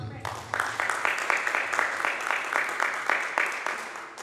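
Steady clapping from a church congregation at an Easter service, a rhythmic unison beat that stays even throughout, with faint voices underneath.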